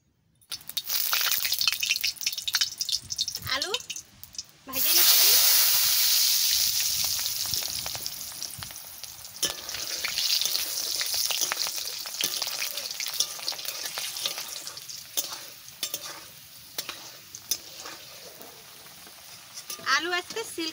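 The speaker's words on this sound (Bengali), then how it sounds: "দিচ্ছি আলু ভাজে নিচ্ছি" Potatoes frying in hot oil, a loud hiss that flares sharply as the potatoes go in and then settles into a steady sizzle with scattered pops and stirring clatter.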